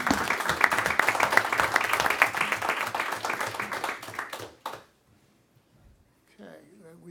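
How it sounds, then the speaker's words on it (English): A crowd at a Delaware Public Service Commission meeting claps loudly and steadily for several seconds, then it fades out to near silence before a voice briefly speaks. "so a round of applause for Kevin."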